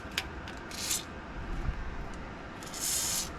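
Penetrating oil sprays in two short, faint bursts onto the exhaust hangers of a Bronco, one early and a longer one near the end, with quiet background noise between them.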